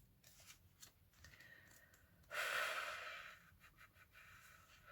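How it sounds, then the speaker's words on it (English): Breath blows close into a microphone during a tarot card reading, one loud, rushing gust midway among soft rustling of shuffled cards. "sorry, I'm breathing into it"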